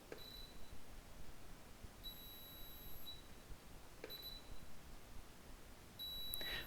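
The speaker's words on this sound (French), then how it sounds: "il va émettre un petit bip bip qui va me signaler que le flash est bien parti" A camera flash emits faint short electronic beeps after firing and again when recharged, several thin high tones spaced a second or two apart over quiet background hiss.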